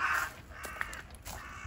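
A crow caws once, loud and fairly close, then several fainter calls follow amid outdoor background noise at a quiet spot in Ikawadani, Kobe.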